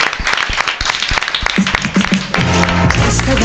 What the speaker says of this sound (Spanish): tenéis que esperar unos segundos para aplaudir muy fuerte a Edu Bravo y Edu Galán de Revista Mongolia